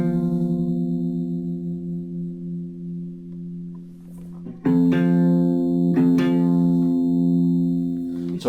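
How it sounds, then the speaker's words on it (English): A sustained low bass note drones, its pitch bending upward as the string is tuned up to F, with a louder re-plucked note partway through. "So I'm going to tune up to F."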